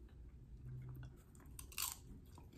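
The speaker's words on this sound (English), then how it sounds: "that was a pretty good crunch" Microwave popcorn being bitten and chewed up close, soft crunching with one sharper crunch near the end, faint and without talking.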